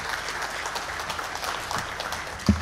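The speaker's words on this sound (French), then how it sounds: "Veuillez l'applaudir s'il vous plaît." Audience at a panel discussion on port cities applauding as a panelist takes her seat, a steady moderate clatter of clapping throughout with one louder thump near the end.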